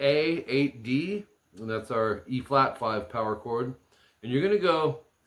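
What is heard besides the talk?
No distinct noise like a dog, phone or traffic.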